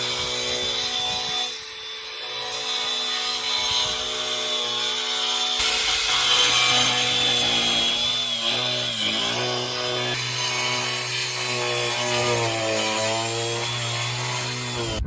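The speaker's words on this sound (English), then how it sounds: "He's going in with his grinder and he's going to try and get as much of that out as possible." A grinder cuts fiberglass filler out of a Ford Escort Mk5 quarter panel with a continuous, abrasive, rasping whine whose pitch wavers as the load changes. Nobody speaks.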